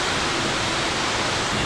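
Water pours off the graphene-coated body of a Toyota Fortuner as a steady, broadband rushing wash with no pauses, loud and close.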